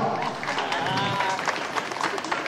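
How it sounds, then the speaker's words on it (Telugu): Students at a school inter-school sports meet clap together in a loud, dense burst of applause that lasts a couple of seconds, with a voice speaking over it. "విద్యార్థులందరూ చప్పట్లతో గట్టిగా"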